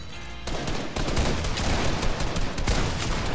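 Fortnite gunfire aimed at the player, with a steady loud barrage of shots and heavier cracks layered on top through the whole stretch.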